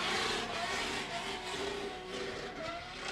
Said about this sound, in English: Listen to the lovely limiter sound of this car. Just absolutely super fast limiter.